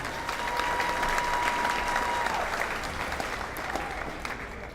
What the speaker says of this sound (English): One more round of applause for our male and female athlete teams of the year.